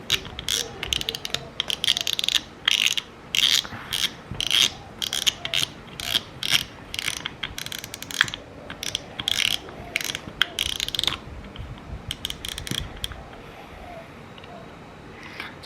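Rapid ratcheting clicks from the drag knob of a Penn Spinfisher V 6500 spinning reel as it is loosened all the way. The clicks come in repeated close bursts with short pauses between them, heard alone and nearby.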